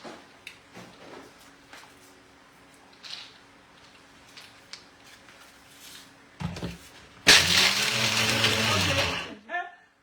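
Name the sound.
blender grinding groundnuts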